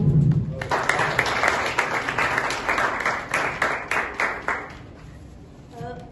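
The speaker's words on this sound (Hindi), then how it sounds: "बस जिसको पसंद आए वो तालियों से मेरी हौसला अफजाई करे" A poetry gathering audience at a mahfil on the Mitr Rangmanch stage breaks into lively applause, a crowd of clapping hands that swells after a brief voice, holds for several seconds, then fades away into quiet.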